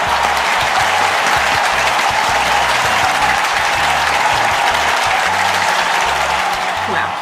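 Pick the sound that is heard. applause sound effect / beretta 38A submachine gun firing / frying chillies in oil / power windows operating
applause sound effect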